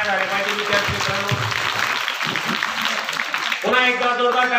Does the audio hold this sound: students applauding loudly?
yes